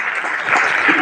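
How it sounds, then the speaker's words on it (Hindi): Audience clapping at an RCM gathering in Chittorgarh, a steady dense patter of many hands that stays fairly loud through the whole short burst. "सब लोग तालियां बजाएं प्लीज।"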